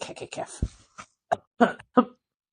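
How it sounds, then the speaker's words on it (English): A few short, rough throat-clearing bursts come in quick succession, close and fairly quiet, with brief pauses between them. "I'm going to clear my throat for a second."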